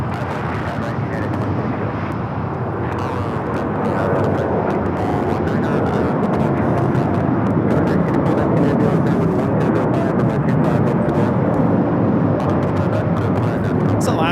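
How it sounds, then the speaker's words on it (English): An Alaska Airlines Boeing 737-800 takes off at LAX, bound for Portland, a loud, steady jet roar that swells slightly and holds for the whole stretch, with wind buffeting the microphone. "Alaska Airlines 1355 taking off to Portland on the 737-800."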